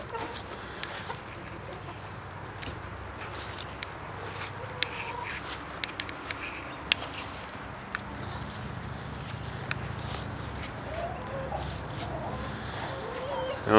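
Hens clucking out in a farmyard, scattered soft calls under steady outdoor background noise, with occasional sharper bursts standing out.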